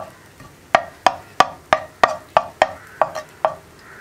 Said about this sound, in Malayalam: ഒരുപാട് ബീറ്റ് ചെയ്യേണ്ട ആവശ്യമില്ല, ചെറുതായിട്ടൊന്ന് ബീറ്റായി വന്നാൽ മതി